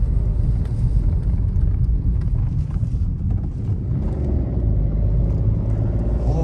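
A car climbs uphill on the winding Topi–Haripur road, its engine a close, continuous low rumble mixed with gusty wind buffeting the microphone, with no talking.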